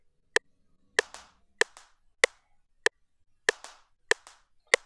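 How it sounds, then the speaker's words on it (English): A sharp, dry percussion hit in an electronic music production repeats about eight times in an uneven, syncopated pattern, some hits trailing a brief noisy flam; close and crisp with no voices. "So the second thing I added was this percussion sound."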